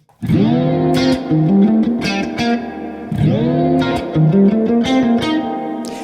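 Electric guitar chords ring out twice through a tape-style clean effect preset, warm and slightly saturated, each strum sustaining and wavering with a soft tape-like wobble.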